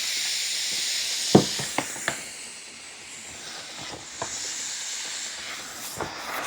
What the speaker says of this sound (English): It takes a little bit for it to start making the steam.